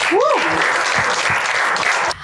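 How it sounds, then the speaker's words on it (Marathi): Audience applause at a stand-up comedy show, a dense, loud burst of clapping that carries steadily for about two seconds before cutting off, with a few voices and a short whoop rising over it near the start. "एकदा टाळ्या, सारखे टाळ्या."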